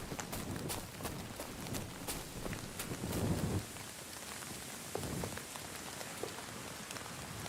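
Rain in the medieval video game Kingdom Come Deliverance 2, a steady patter of drops on surfaces with scattered louder drips and faint hoof-like clopping.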